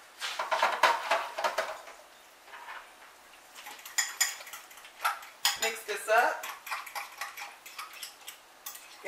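Utensils clink and scrape rapidly against a bowl while ketchup and ranch are mixed into a spicy Cajun sauce, coming in quick rhythmic bursts with a brief pause midway.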